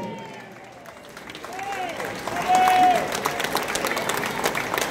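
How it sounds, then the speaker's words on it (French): A festival crowd at a country music event claps for a singer in a standing ovation. Applause builds steadily and peaks midway, with cheers and a host speaking over it. "j'aurais aimé ça qu'on lui donne son premier standing ovation"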